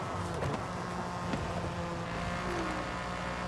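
A GM V6 car engine in the video game Forza Horizon 5 drones continuously at moderate loudness, its pitch shifting slightly as it revs, with no talking.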